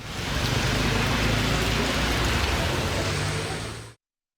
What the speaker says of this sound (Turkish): Düzce'de de şiddetli yağmur etkili oldu.